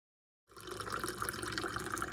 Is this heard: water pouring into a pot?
yes